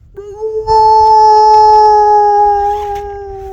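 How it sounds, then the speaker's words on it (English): A coyote howls in the open desert among the Trona Pinnacles, one loud, sustained, steady-pitched wail rising from a short yip and holding for about three seconds before easing off, with no talk over it. "The really cool coyote howling over there."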